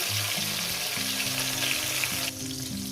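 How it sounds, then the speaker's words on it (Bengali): Tomato frying in a pan of hot oil for a masala omelette fry, a loud continuous sizzle close by that drops slightly near the end. "টমেটোটাকে দিয়ে দিলাম টমেটোটাকে আমি ভেজে নেব"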